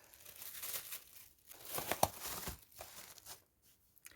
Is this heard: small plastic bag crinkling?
yes